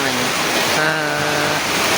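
Heavy rain outside, a dense continuous hiss and patter steady throughout, with a faint voice underneath.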